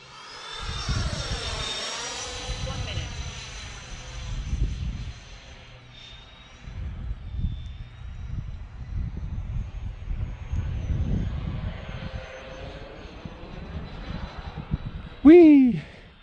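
A Freewing F-14 radio-controlled model jet with twin 80mm electric ducted fans whines overhead, its high turbine tone rising and falling as it passes; someone talks over it, and a sharp sweeping whoosh comes near the end.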